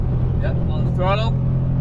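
A Subaru BRZ track car engine drones steadily on throttle, a low continuous roar filling the background while an instructor's voice talks over it up close.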